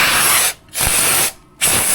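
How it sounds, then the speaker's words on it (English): A spray gun blasts in two long hissing bursts with short gaps between, close and loud while cleaning the deck of a Toro HDX30 mower. "I've got the spray gun here."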